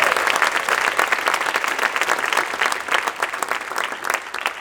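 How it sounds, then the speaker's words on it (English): Audience applause for a jazz band, a dense, loud and steady wash of many hands clapping that holds evenly throughout without voices. "So a round of applause for them."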